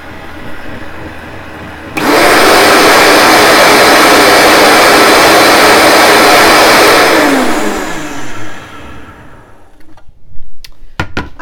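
A blender whips coffee on its low setting for a keto mocha, a loud steady motor whir that starts abruptly and runs for several seconds, then winds down in pitch and stops, followed by a few small clinks.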